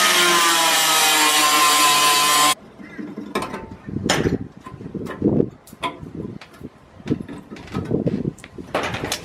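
An opening is cut in a truck's firewall for a winch cord: a loud, continuous power-tool whine runs for about two seconds, then stops and gives way to irregular close metallic knocks, scrapes and clunks.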